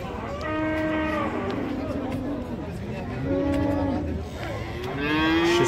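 Cattle mooing at a livestock market in Baizak district, several long lowing calls from bulls and cows overlapping with a murmur of people talking in the background.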